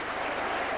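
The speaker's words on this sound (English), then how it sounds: "The Saints faithful at the bottom end there, they applaud their favourites." Saints supporters applaud at a rugby league cup tie at Featherstone, a brief, dense wash of distant crowd clapping heard from a stadium end, steady and unbroken.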